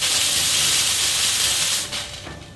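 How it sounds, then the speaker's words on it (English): A Sanremo Zoe coffee machine's cool-touch steam wand blasts a loud, steady hiss that cuts off near the end and trails into a quieter fade. "after activating your steam wand"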